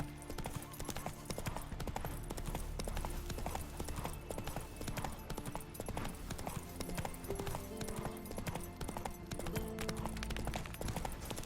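Roach, a horse in The Witcher 3, clip-clops steadily throughout under a dense game soundscape with music, the hoofbeats continuous and even.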